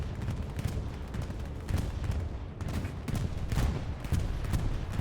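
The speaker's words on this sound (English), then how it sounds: "I hear a bombing run." A bombing run over a trench at Utah Beach in Hell Let Loose, a dense continuous rumble of distant blasts and gunfire rolling on throughout, with heavier bursts swelling midway and near the end.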